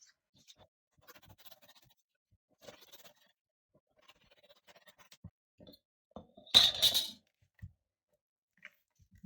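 Gray paper torn by hand for a collage, one short loud rip near the end that follows a stretch of faint scattered paper rustles and taps.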